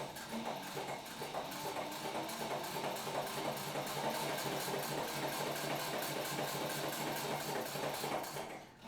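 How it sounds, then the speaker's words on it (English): A sewing machine stitches fabric for a children's backpack, a fast, even mechanical rattle of needle strokes running steadily and close up, unbroken until it stops at the very end. "so all I have to do is sew."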